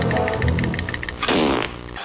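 A loud, drawn-out fart sound effect played in a comedy stage show, rumbling through the clip and followed by a brief burst of audience noise toward the end.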